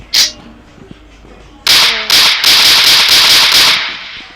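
A pump shotgun from a Minecraft PE guns mod fires in a video game, one sharp crack followed by a close, loud run of rapid blasts lasting about two seconds.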